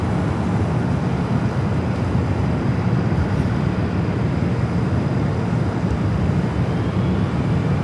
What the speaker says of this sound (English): Looks like our first takeoff of the stream